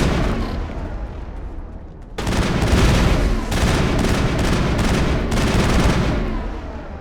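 Sustained bursts of overlapping gunfire from the video game Mass Effect, dense and loud from about two seconds on after a quieter start, with brief gaps between volleys.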